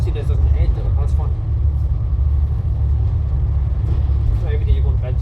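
Low, constant engine rumble fills the cabin of a bouncy Xplore Dundee bus riding the route from Broughty Ferry to Ninewells, loud and steady, while a person talks quietly over the drone.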